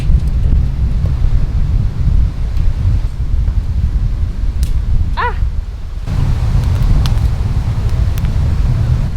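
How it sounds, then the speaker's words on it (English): Strong wind buffets the microphone at a beach campsite, a heavy, steady roar that continues without a break, with a faint chirp of a bird passing midway. "Hoping this wind will die off a little bit"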